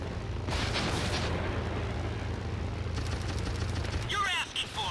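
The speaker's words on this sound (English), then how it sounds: "could I interest you in some missiles?" Missiles fired from a battleship and zeppelin in the video game The Brew Barons make a continuous deep, booming rumble, with sharper blasts layered on top and a voice speaking briefly near the end.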